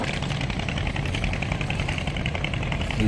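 A boat engine running steadily while crossing a river near Sadarghat in Dhaka, a continuous close low droning rumble with a faint rattly vibration and no pauses.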